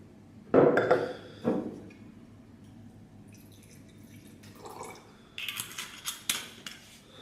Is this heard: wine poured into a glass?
yes